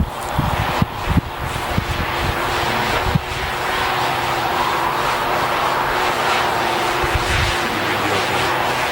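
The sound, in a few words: DJI Mavic Pro drone flying and descending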